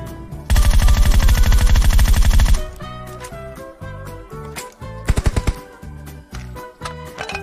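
Video game gunfire bursts out as a long, loud, rapid machine-gun stream, followed by scattered shorter shots and a quick cluster of sharp reports, set against game music and effects.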